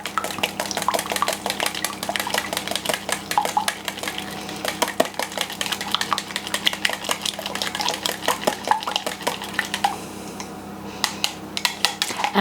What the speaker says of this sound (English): So I need to whisk those together lightly so that it's well mixed.